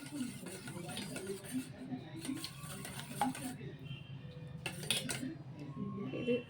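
Christmas cake batter is stirred by hand in a bowl, with quiet, irregular clinks and scrapes of a utensil against the bowl, close and soft.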